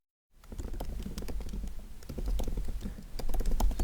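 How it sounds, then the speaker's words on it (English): Typing on a computer keyboard, a close, steady patter of quick key clicks that starts after a brief silence and continues without a break, growing slightly louder toward the end, with no one talking. "You can type something in here."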